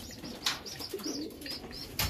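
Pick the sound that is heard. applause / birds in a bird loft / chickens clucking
birds in a bird loft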